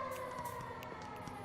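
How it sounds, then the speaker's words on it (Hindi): An emergency siren wails steadily through a short stretch of a horror story, a continuous tonal sound set against a dim, somewhat muffled background. "तभी उसे सायरन की आवाज सुनाई दी"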